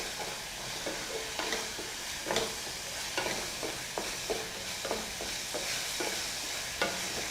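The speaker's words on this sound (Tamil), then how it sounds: "அடுப்பை சிம்மில் வச்சுட்டு நல்லா ஒரு 5 மினிட்ஸ் 10 மினிட்ஸ் நல்லா வதக்குங்க" Ginger curry masala for inji kuzhambu sautés in a pan on a low flame, a soft steady sizzle broken by regular scraping strokes of a spoon stirring, close and moderately quiet with no talking.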